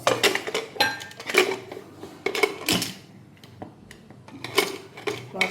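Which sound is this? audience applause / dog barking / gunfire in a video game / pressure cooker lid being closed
pressure cooker lid being closed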